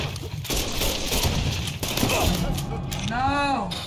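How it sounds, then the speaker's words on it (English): Bursts of gunfire ring out in the video game Mafia 3, a dense run of sharp shots over a noisy battle, with a short whooshing effect near the end. "Somebody is shooting at me and they're making me use all my health."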